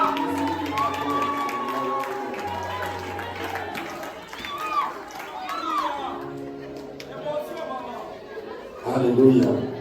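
Wedding congregation cheers and chatters in a lively crowd, several voices calling out over a busy hubbub, with a louder burst of cheering near the end.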